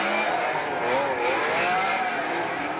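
A Mazda FC RX-7 drift car at a pro drifting championship round in Wellington accelerates hard, its engine note rising and sliding in pitch for about three seconds, loud and continuous.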